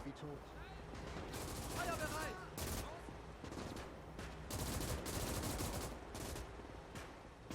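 An anti-tank gun firing in the WWII strategy game Call to Arms on the Eastern Front, heard amid a busy clatter of rapid gunfire bursts and sharp cracks, fairly close and continuous.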